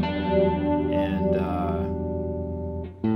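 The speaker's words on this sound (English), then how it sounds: "playing around with the mix of the chorus" Electric guitar played through the chorus effect on a Yamaha THR-10II amplifier, sustained shimmering chords with a swirling modulated tone and a short strum near the end, no talking.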